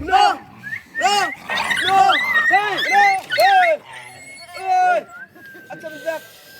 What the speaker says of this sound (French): des fois, il y a un peu de guerre entre chiens